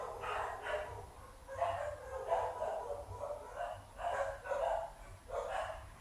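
Dogs barking somewhere in the neighbourhood, a series of repeated barks at a moderate distance over a low background hum, with no voices.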